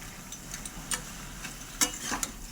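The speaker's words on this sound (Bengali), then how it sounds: "আমি এখানে মাংসটা বাটার দিয়ে ভাজছি" Pieces of chicken fry in butter in an uncovered kadai for chicken kosha, giving a low, steady sizzle broken by a few sharp pops and utensil clicks, heard up close with no talking.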